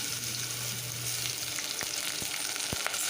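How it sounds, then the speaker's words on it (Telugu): Sambar tempering of mustard seeds, cumin, garlic pieces, curry leaves and two green chillies frying in hot oil: a steady, close sizzle with a few sharp pops and crackles spaced through it. "సాంబార్కి తాలింపు వేస్తున్నాను ఆవాలు జీలకర్ర తర్వాత వెల్లుల్లి ముక్కలు కరివేపాకు రెండు పచ్చిమిర్చి వేసుకున్నాను"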